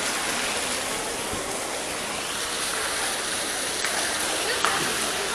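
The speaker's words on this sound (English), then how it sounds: "see how the water is spraying." Water sprays and splashes continuously, a broad rushing hiss close by, with a couple of faint clicks near the end.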